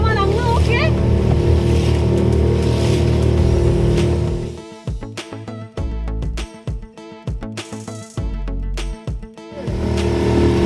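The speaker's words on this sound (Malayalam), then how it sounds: "നല്ല തിരമാല." Steady wash of sea and engine noise aboard a fishing boat at sea, rough wind-and-wave rumble for several seconds, then broken, choppy bursts and dips as the boat rides the waves.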